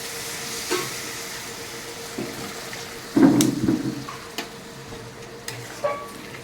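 Water poured into a hot spiced pan for a bhetki fish curry, giving a burst of sizzling and bubbling midway after quieter background frying and occasional utensil knocks.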